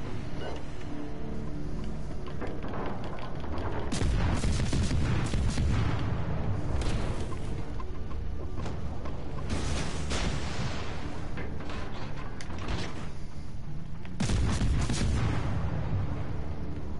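Ship cannon fire in World of Warships Legends, repeated heavy booms and explosive bursts over a constant rumble, several loud blasts spaced a few seconds apart.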